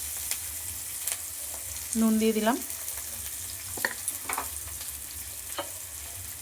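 Onion, tomato and green chili frying together in a pan give a soft, steady sizzle under occasional stirring clatter, while a voice speaks briefly in the middle.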